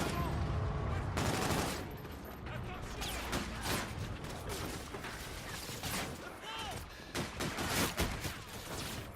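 Dense gunfire from the video game Call of Duty Infinite Warfare: rapid automatic bursts and repeated shots pile up continuously for about nine seconds, loud and close, with game noise filling the gaps.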